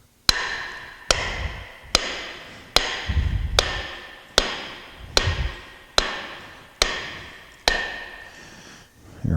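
Pinion flange being hammered down onto the splined pinion shaft of a 1963 Chevrolet Biscayne positraction differential during final assembly, with new gears making it tight; ten sharp, evenly spaced metallic blows ring out close and loud, with no talking.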